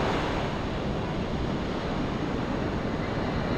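Steady roaring surf from ocean waves washing in on a Phuket beach, a constant broadband rush with no pauses and no voices.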